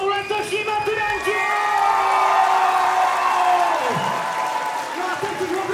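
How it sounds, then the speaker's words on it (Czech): Audience applause and cheering at a Czech secondary school graduation ball, a steady crowd clatter with whoops and shouts that holds for several seconds, while a voice on a microphone speaks over it. "dámy a pánové, ještě jednou pořádný potlesk, abychom mohli začít"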